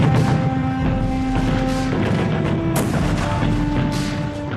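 Heavy gunfire and artillery booms at Gold Beach on D-Day, dense and continuous with loud repeated blasts and crashes throughout, no voices.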